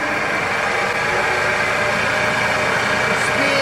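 A woodturning lathe spins at 1800 RPM while a 5/8 bowl gouge works a lidded piece with a finial, producing a steady, loud, continuous hum and whir with no pauses throughout.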